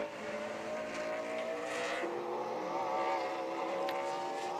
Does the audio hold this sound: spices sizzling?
no